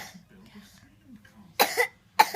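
After some quiet background talk, a child lets out two loud, close coughs about half a second apart.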